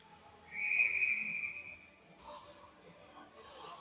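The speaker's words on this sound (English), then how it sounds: "Linesman blew the whistle." A linesman's whistle at a junior varsity ice hockey game sounds as one sustained shrill blast, held for about a second over rink noise and murmuring crowd, followed by scattered voices and shuffling.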